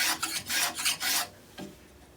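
A rasp cuts a bevel on a teak wood kitchen utensil in a quick series of close, loud, gritty strokes, then a brief quieter scrape after a pause, with no voices.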